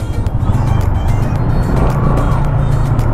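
Heavy congested road traffic surrounds a motorcycle rider, with a loud continuous low engine rumble and rushing wind noise from a helmet-mounted camera, steady throughout.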